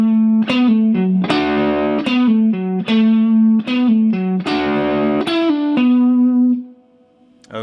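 Played slowly on a distorted, effects-laden electric guitar, a phrase from a second solo unfolds in long sustained bends and picked notes, loud and close, ending on a held note that fades.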